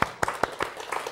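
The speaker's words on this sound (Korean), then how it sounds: "감사의 박수 드리겠습니다." Applause from a church congregation during a Thanksgiving service: a short, light patter of hand claps, a few distinct claps at first and then thinning out, fairly soft and somewhat distant.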